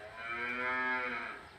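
A cow moo sound effect from a DCC-controlled model train layout, one sustained bovine low plays loud and clear for over a second, rising then fading, with no talking.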